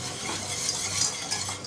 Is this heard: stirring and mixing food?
yes